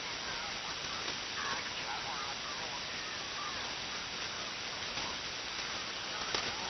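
Rain carried over an amateur radio transmission, a steady, dense hiss of falling drops that fills the whole clip at an even level.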